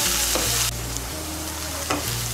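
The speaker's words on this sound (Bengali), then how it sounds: "গাজর কুচিটাকেও ভেজে নিয়েছি তেলের সঙ্গে মিশিয়ে নিয়ে।" Chopped carrots fry in hot oil for a vegetable chire pulao, a close, loud sizzle with a few sharp bursts as the pieces are stirred, no voices.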